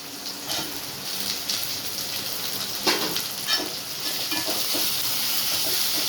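Onion and tomato frying in a pan for samba rava upma, a steady close sizzle with occasional stirring scrapes throughout.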